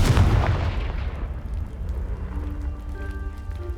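A Confringo spell explosion blasting apart a pile in Hogwarts Legacy, a loud booming burst at the start that decays into rumbling debris and a faint ringing tone, no talking.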